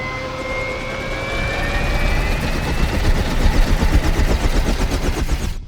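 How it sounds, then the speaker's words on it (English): Airplane engines roaring from outside the aircraft, a sustained drone with a high whine gliding upward, swelling louder and developing a rapid pulsing flutter toward the end. "Kind of hear the engines outside the plane here."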